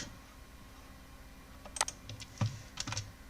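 Quiet keystrokes on a computer keyboard as product details are entered, a short burst of scattered clicks in the second half after a near-silent start, with no voices.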